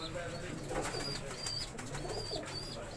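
Chinese pigeons coo softly and repeatedly inside a breeding setup. Low rhythmic calls sit over a constant background hum with some faint rustling.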